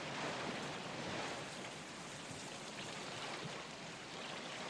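Water of the Sea of Galilee washes steadily around a rowing boat, a continuous broadband rush like lapping surf, fairly loud and unbroken with no voices.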